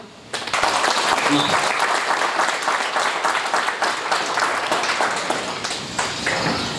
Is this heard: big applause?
yes